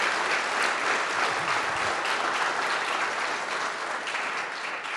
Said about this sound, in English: let's give a big applause for our panelists